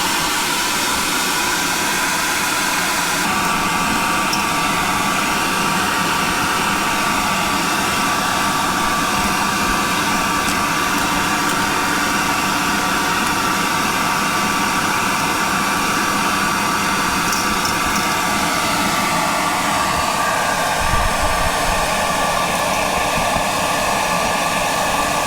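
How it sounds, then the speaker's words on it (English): A hairdryer blows on stuck parts to loosen them, a loud, steady, close whooshing drone that runs without a break and without speech. "I might get the hairdryer on it just to see if I can loosen them up a little bit."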